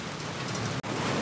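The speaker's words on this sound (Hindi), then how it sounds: "अल्हम्दुलिल्लाह बारिश शुरू हो चुकी है, बारिश शुरू थी गई है" Steady rain patters down outdoors, a dense, even hiss of drops with no voices, briefly cut by a split-second dropout near the end.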